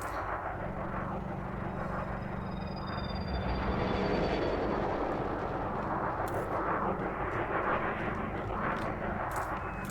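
Spaceship maneuvering in the space game Elite Dangerous, a dense, loud, continuous engine roar with a low rumble, rising whining thruster tones and brief hissing bursts as the ship turns.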